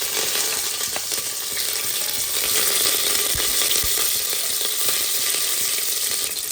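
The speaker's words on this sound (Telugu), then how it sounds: "ఆనియన్స్ గోల్డెన్ బ్రౌన్ కలర్ వచ్చేంత వరకు వేగనిద్దాం." Chopped onions and curry leaves fry in a pan for a tomato bath, giving a steady, close sizzling hiss that runs evenly throughout with no voices.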